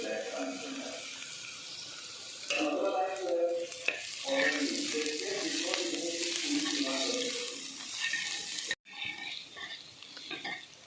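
Onion and green chillies frying with cumin in a pan, a continuous close sizzle with stirring scrapes that swells louder, then briefly cuts out before resuming.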